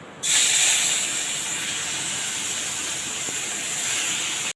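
Shrimp rubbed with salt and turmeric hit hot oil in a heated pan, a sudden loud sizzle that holds as a steady bright hiss before cutting off abruptly.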